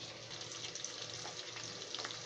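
Chopped onions fry in hot oil for a chilli chicken gravy, giving a close, steady sizzle with slight stirring.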